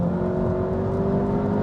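A VW MK7 Golf R engine pulls hard under acceleration, a steady loud whirring drone heard from inside the car with no talk over it.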